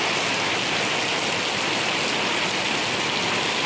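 Steady, dense downpour of heavy rain in Malaysia, a constant loud hiss of water with no voices or breaks.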